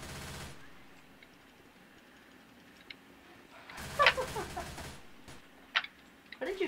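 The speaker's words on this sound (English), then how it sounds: "Why are you shooting the wall?" Gunfire from Left 4 Dead 2 hitting a wall: quiet sharp bursts of shots, a dense cluster around the middle and a few isolated cracks later, with faint background game ambience.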